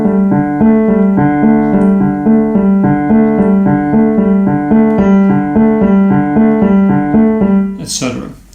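A left-hand piano ostinato in 3/8 from a tune repeats steadily with the accent shifting to different notes of each three-note group. It plays loud and solo for about eight seconds before a brief noise at the end.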